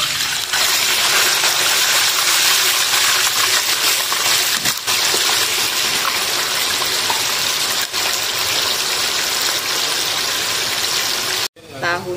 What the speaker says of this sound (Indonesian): tahunya mau digoreng